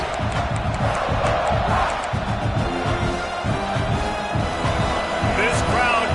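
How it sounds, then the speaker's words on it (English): Stadium crowd roaring in the video game College Football 26 during a South Carolina vs Ole Miss matchup, a dense sustained wall of cheering and yelling with a commentator talking over it. "This crowd going to try to make life miserable for these guys."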